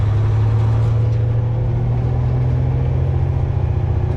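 A truck engine with a 13-speed manual transmission rumbles loud and close, a deep steady drone with raised RPMs held through the clip rather than distinct revs.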